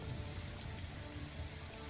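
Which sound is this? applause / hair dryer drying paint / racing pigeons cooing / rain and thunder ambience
rain and thunder ambience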